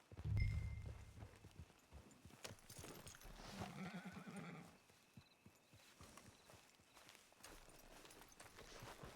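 A horse in the Red Dead Redemption 2 Online video game gives a loud whinny at the start, followed by the clip-clop of hooves moving at a walk, clear and close with no talking.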